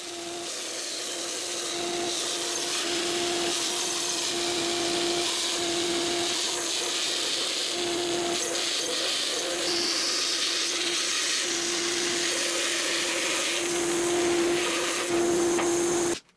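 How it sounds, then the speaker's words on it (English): A bandsaw resawing workbench boards down to thickness gives a steady, loud whine with a sustained tonal hum, running without a break for about sixteen seconds before stopping abruptly. "The next step was to cut the boards to the correct thickness, and the bandsaw was my machine of choice."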